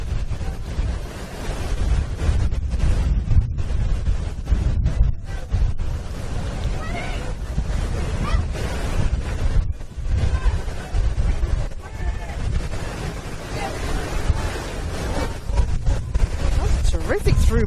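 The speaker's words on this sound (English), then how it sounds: "It's windy, it's wet." Strong, steady wind roars across an open, rain-soaked football pitch during a Victorian Premier League women's match between Casey Comets and Spring Hills, its broadband buffeting continuous under a commentator's voice.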